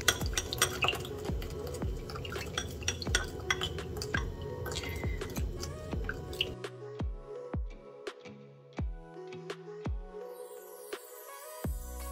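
Small clinks of a utensil against a glass or dish while stirring niacinamide powder into water, quick irregular taps that thin out into sparse, ringing clicks.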